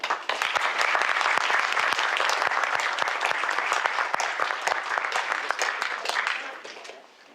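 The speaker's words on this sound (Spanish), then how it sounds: "un fuerte aplauso" Vigorous audience applause at a 2018 conference lecture, many hands clapping densely and steadily for several seconds before tapering off at the end.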